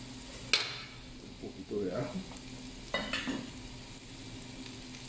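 Garlic sizzles and is stirred in a pan with oregano while frying for shrimp rice, giving soft scraping stirs and crackling bursts under a light steady frying hiss, with a brief spoken word.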